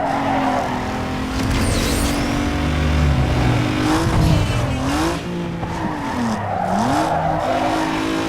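A car in Need For Speed Underground 2 drifts and skids, its engine whining up and down in pitch while tires squeal and scrub loudly and continuously, close and alone.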